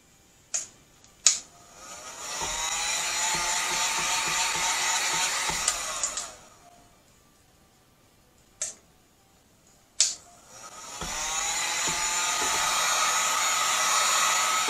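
A heat gun blows over epoxy resin on a tumbler, a steady close whooshing roar running for several seconds, cutting off, then starting again after a few clicks and knocks.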